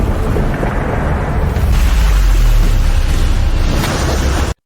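A huge bomb explosion in a film, detonating in an underground cave room: a loud, sustained deep rumbling roar with heavy low-end boom swelling through the middle, no voices, then cutting off abruptly.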